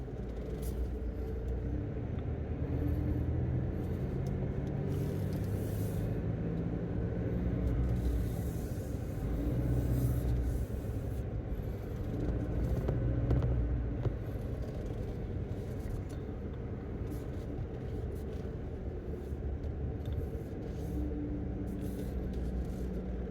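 A Toyota pickup truck, Tacoma or Tundra, drives slowly around a dealership lot, a steady low engine rumble with road noise heard from inside the cab, faint murmurs of voices underneath.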